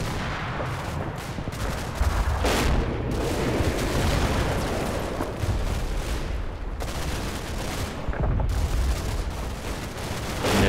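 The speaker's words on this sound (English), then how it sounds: "Artillery falling really far back." Constant rumbling artillery barrages and gunfire roll through a Normandy battle in Combat Mission: Battle for Normandy, with the dense, loud booms continuing without a break.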